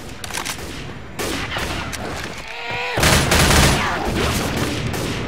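Gunfire in the Xbox 360 shooter Left 4 Dead 2, repeated bursts of rapid shots and a louder volley near the end, busy and close, with a brief gap in the middle.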